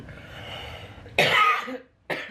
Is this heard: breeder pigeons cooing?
no